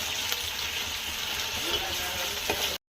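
Onions and ginger paste sauté in a pan for chicken curry, making a loud, continuous sizzle with occasional stirring scrapes before it cuts off abruptly.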